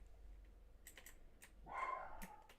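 A dog barks a few times indoors, faint and somewhat distant, amid close clicking of computer keyboard typing during a game session.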